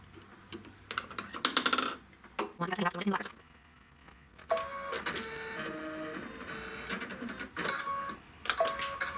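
An embroidery machine stitches out the final part of a Pot O' Gold jar topper design in black thread, producing intermittent whirring runs and quick clicking bursts separated by short pauses.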